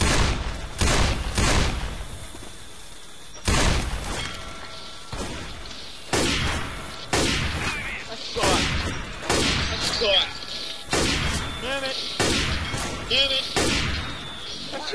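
Gunshots in the zombie shooter Left 4 Dead 2 at a carnival, sharp single blasts fired one after another at irregular intervals, with thuds and crashes in between and voices chatting over the firing.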